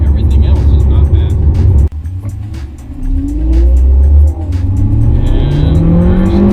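A Hyundai Veloster engine at about 90% throttle on a road in Mexico, loud and close, revving hard with rising pitch sweeps as it climbs through the gears. One brief dip marks a gear change, and the engine noise is continuous throughout.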